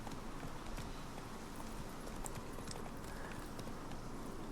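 Horse hooves clip-clop in the video game Witcher 3, a continuous rhythmic patter of hoofbeats over a steady low rumble of riding, moderately quiet and without talk.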